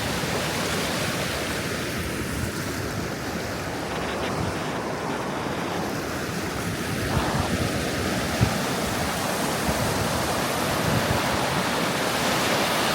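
A dense, constant roar of the flooded River Soar rushing through a lock at Barrow upon Soar, heard close and loud for the whole stretch, with slight swells but no pauses and no one talking.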